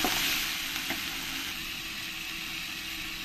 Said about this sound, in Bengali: জিরের গুঁড়ো, ধনের গুঁড়ো, লঙ্কার গুঁড়ো, ওটাই আমি দিয়ে দেবো, দিয়ে আবার আমি 2-3 মিনিট ধরে একসঙ্গে কষিয়ে নেব।